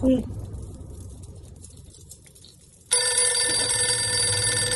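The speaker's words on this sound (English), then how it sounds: "Is that the phone ringing?" In the horror video game Poppy Playtime Chapter 3, a telephone bell starts ringing loudly after a few quiet seconds of ambience and then rings continuously, bright and close.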